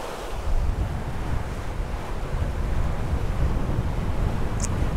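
Waves wash and wind buffets steadily while a Lagoon catamaran sails along at speed, a loud continuous rush of surf and wind noise across the microphone with no talking.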